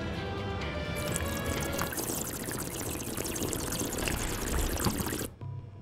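A man imitates a bong by sucking water through his lips, making a continuous bubbling, gurgling rush that runs for about five seconds before cutting off abruptly.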